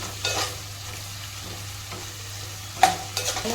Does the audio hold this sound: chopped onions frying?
yes